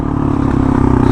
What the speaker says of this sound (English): Very comfortable to ride for a dirt bike.